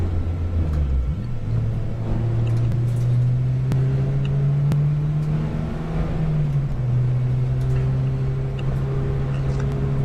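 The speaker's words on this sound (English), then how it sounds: "the last place car is coming into the chicane now as the leaders go to Hollywood." Racing cars in a full club race at Donington Park circuit, a steady loud engine drone with pitch shifting up and down as cars lap and pass, continuous and close with no talking.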